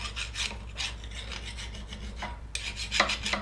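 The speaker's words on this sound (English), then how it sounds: "we got to do a little deburr here. So here to get us a file off the lathe." A hand-held metal file deburring a freshly turned part off the lathe in a home workshop, with a steady run of close, scratchy rasping strokes in an even back-and-forth rhythm and a brief pause before harder strokes resume.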